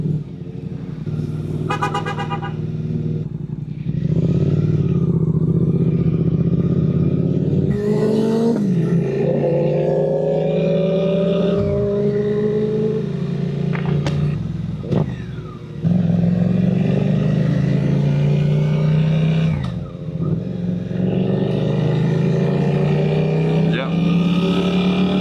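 A Suzuki GSX-8R motorcycle ridden with a passenger: the engine is heard close as it pulls away and rises through the gears, with revs climbing and dipping at each shift, while voices talk over it.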